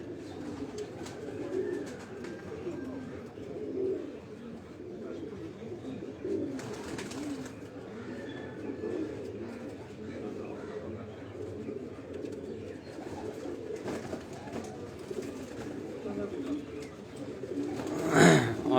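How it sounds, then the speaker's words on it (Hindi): Migratory pigeons coo steadily in a loft in Haripur Hazara, soft repeated throaty calls layered under low murmuring voices, with a louder burst of fluttering and bird noise near the end. "ये प्रवासी कबूतर ने जी उन्हां दे।"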